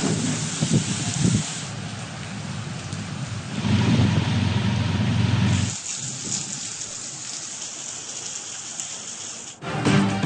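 Heavy monsoon downpour in Pakistan, a loud, dense hiss of rain pouring and splashing on surfaces, steady with surges and brief breaks between shots.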